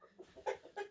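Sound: hen clucking

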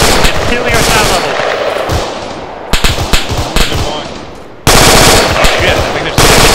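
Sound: gunfire in the video game Arma 3

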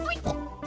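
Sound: pig oinking

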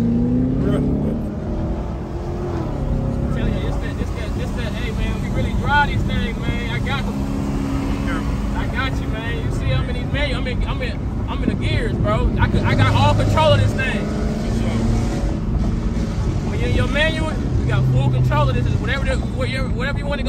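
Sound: Corvette engine in a street race

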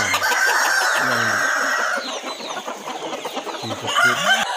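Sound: KUB chickens clucking and crowing

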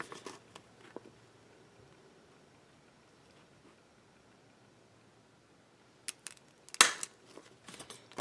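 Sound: cutting a half circle out of laminate

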